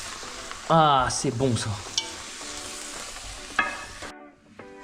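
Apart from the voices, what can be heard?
vegetables stirred and sizzling in pan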